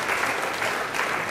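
Dense, lively applause from an audience at a religious lecture fills the room, a continuous rush of many clapping hands with no break.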